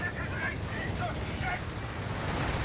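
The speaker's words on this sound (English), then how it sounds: "Yeah, strafing both Shermans by the look of it" Rattling bursts of aircraft strafing gunfire raking Sherman tanks in a World War II strategy game, fairly loud and sustained over a rumbling battle bed, with a voice faintly underneath.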